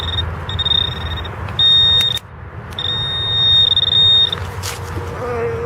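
A metal detector sounds while sweeping for finds outdoors, giving steady high-pitched beeping tones in several bursts of varying length, close and clear over low background rumble and handling noise.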